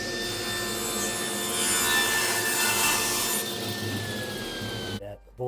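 A saw rips a cherry board to width, a steady loud whining cut that runs for about five seconds and then stops abruptly.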